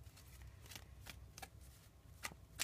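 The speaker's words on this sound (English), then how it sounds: "let me do a little shuffle" Tarot cards are shuffled by hand in a quiet room, soft riffling swishes repeating every half second or so, faint and close with no talking.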